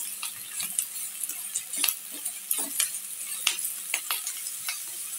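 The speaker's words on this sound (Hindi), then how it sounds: "अब इसमें डालेंगे गाजर, इसको भी चलाएंगे थोड़ा सा।" Carrots for veg chow mein are stir-fried in a hot pan, with frequent scraping strokes of a spatula over a soft underlying sizzle, close and fairly lively, with no voices.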